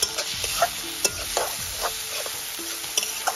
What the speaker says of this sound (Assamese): গোটেইবোৰ মছলা আদা নহৰু জলকীয়া জিৰা জালুক গোটেইখিনি দি মেলি এতিয়া ভালকৈ ভাজি লগাইছোঁ